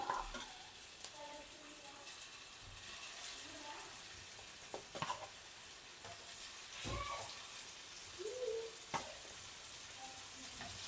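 Marinated fish pieces fry in hot oil with curry leaves, a steady close sizzle throughout with occasional stirring clinks and scrapes, and a brief faint voice in the background.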